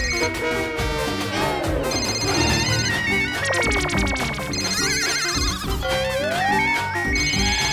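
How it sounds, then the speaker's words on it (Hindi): A mobile phone rings loudly with a busy melodic ringtone that repeats across the stretch, heard alone with no talk, in a domestic comedy scene. "मेरी बासुंदी का भी फोन आ रहा है"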